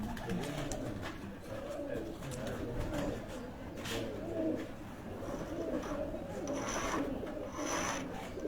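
Rampuri pigeons cooing softly and steadily among a loft of birds, with rustling and scraping noises underneath and faint chirps from other birds throughout.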